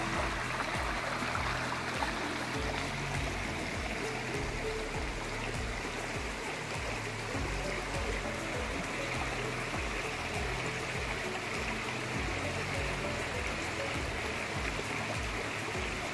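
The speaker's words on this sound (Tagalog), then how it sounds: "Ang lakas ng agos po, ano?" A strong river current in Sta. Elena, Camarines Norte rushes steadily and close, a dense unbroken wash of flowing water lasting throughout with no talking.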